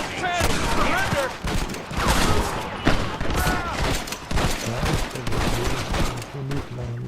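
Gunfire in the video game Red Dead Redemption: a heavy fusillade of close, loud shots coming in irregular volleys, mixed with shouting voices and talk throughout.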